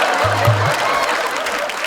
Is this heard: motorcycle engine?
no